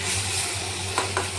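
Chowmein being stirred in a frying pan, a continuous close sizzle with a couple of brief scraping clinks of the spatula near the end.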